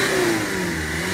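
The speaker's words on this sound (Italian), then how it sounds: "Ma sente che bidone, fa un rumoraccio! Oh, sente come gira sto motore!" An old car engine revs loudly and roughly up close, a harsh, steady mechanical drone lasting about a second with no voices over it.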